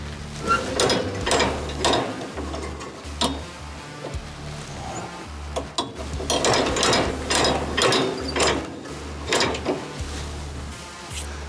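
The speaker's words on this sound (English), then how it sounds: "let me use this cast iron wheel to adjust this grill grate up" A cast iron wheel cranks the grate of a Yoder Santa Maria style grill up, giving loud, close ratcheting clicks and gear rattles in repeated bursts with brief pauses between them.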